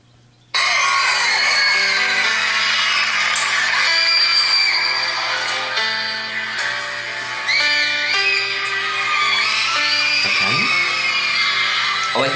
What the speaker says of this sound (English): All I hear are screams.